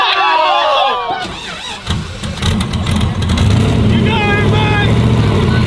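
A full-size remote control quad's engine starts and runs, a steady mid-pitched motor drone that swells as it drives off, with excited voices shouting over it.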